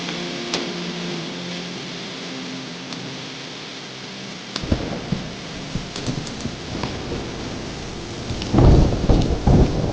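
A thunderstorm with steady rain, faint at first, then sharp cracks and rumbles of thunder grow louder and closer toward the end.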